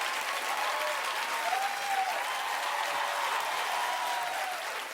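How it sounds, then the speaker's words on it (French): A studio audience at a Quebec talk show claps steadily for about five seconds, a dense, even wash of applause with no voices on top, tapering slightly at the end. "Là, vous applaudissez"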